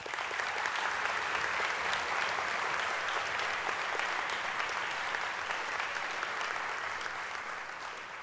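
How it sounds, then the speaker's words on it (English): Graduation audience at a Central Ohio Technical College summer commencement clapping in a long, even, dense wash of applause that holds steady throughout and eases slightly at the end. "Let's give them all a round of applause."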